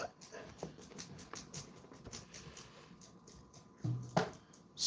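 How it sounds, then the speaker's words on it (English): Small dogs, including a basset hound, scuffle and whimper in a playful tussle indoors, with repeated short whines, yips and scratching bursts close by, no talking. "I got a little dog battle going on right here."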